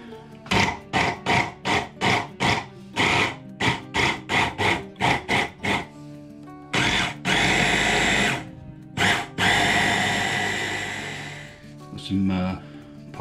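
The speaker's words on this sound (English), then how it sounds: "I was expecting too much of this little blender" A small electric blender whirs through a falafel mixture of chickpeas, coriander and parsley in short, rapid pulses, then runs in longer loud bursts, close and harsh with a grinding edge.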